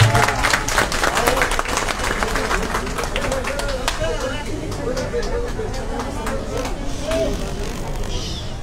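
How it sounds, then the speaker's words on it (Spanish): A crowd at an outdoor campaign rally for a mayoral candidate claps loudly and steadily, dense hand-clapping mixed with murmuring voices and babble that gradually thins toward the end. "Un fuerte aplauso para nuestra futura alcaldesa."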